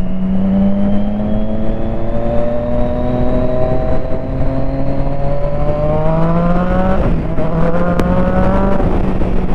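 A Triumph Street Triple 675 motorcycle engine pulling in second gear, loud and close, its exhaust note climbing steadily in a long rising rev, a brief dip around a shift point, then continuing to climb.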